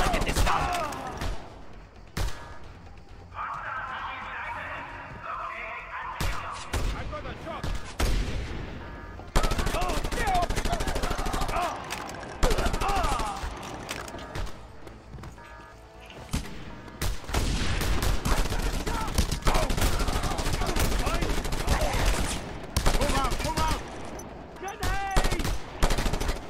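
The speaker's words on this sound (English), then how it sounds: "Machine gun. Seriously." Bursts of machine gun fire in Just Cause 2, rapid rattling volleys that stop and restart through a long firefight, loud and close, with occasional booms and some speech mixed in.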